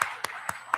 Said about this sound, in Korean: 우리 잠깐 그 자리에서 일어나시면 박수하겠습니다.